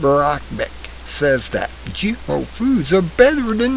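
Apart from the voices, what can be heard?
No distinct noise like a dog, phone or traffic.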